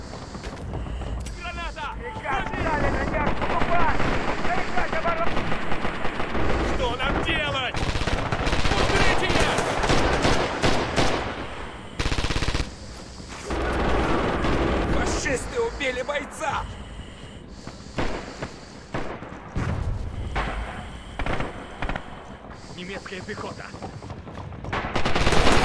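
Gunfire in the Red Orchestra 2 war game: dense, loud machine-gun bursts and rifle shots, some near and some distant, with breaks and wind-like rumble across the stretch, and a voice talking at points.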